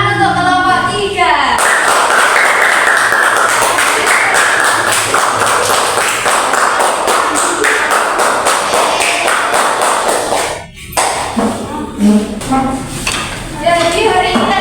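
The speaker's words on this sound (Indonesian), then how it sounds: "tepuk tangan untuk kelompok 3." Classroom of primary school pupils applauding a student group, a dense burst of steady clapping lasting several seconds before it breaks off, with children's voices over and after it.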